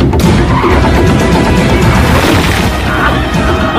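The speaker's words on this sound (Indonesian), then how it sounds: "mobil mereka hancur dalam tabrakan yang cukup keras" Violent car crash from a gangster film, a loud, dense wash of smashing and crunching noise with a sharp impact near the start, sustained without any talking.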